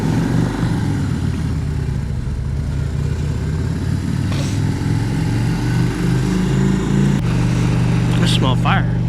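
A motorcycle ridden out in the cold, its engine a steady close drone with shifting harmonic bands and a gear-change-like shift partway through, over continuous wind rush.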